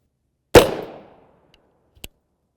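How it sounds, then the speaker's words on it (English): A single sharp gunshot from a Palmetto State Armory ARV9 16-inch 9mm carbine fired into ballistic gel, loud and close with a short decaying tail, followed by a faint small click a moment later. "And now our 16 inch, this is a Palmetto State Armory ARV9."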